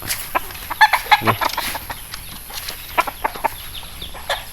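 Derby fighting roosters on a farm give repeated short clucks and squawks, close and fairly loud, in irregular bursts over a steady background hiss, with no talking.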